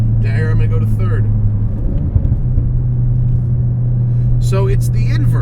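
A manual-transmission car engine droning steadily at low pitch as the driver brakes and drops to third gear, a brief dip and blip in the middle, with someone talking over it at the start and end.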